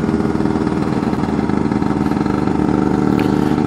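Lambretta and Vespa scooters and mopeds riding slowly in a group at the Klokkerun ride make a loud, steady drone of small engines, close by and continuous, with no voices.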